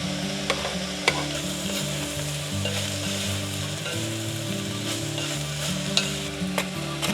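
Chinese sausages fry in a pot with garlic, giving a steady close sizzle with repeated stirring scrapes and light utensil knocks throughout, and no talking.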